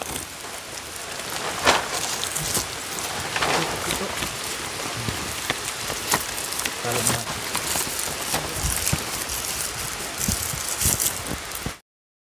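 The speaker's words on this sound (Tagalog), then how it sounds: "Oh, humirit at ito na naman po ang ulan ngayon." Rain falls steadily on a freshly pitched tarp tent in a forest, a dense close patter with heavier drips tapping throughout, continuous until it cuts off at the end, with a voice heard briefly.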